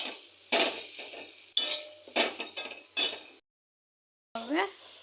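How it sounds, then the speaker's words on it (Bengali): Spices and salt being stirred in a pan, a few distinct scraping and clinking strokes of a utensil against metal separated by short pauses, close and clear, with one brief silence. "দেব পরিমাণ মতো লবণ, তারপর মশলাগুলোর সাথে ভালোভাবে নেড়ে চেড়ে"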